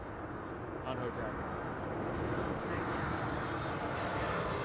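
A WestJet airliner passes low overhead near Toronto Pearson Airport as a loud, steady engine roar that swells slightly, while people talk underneath.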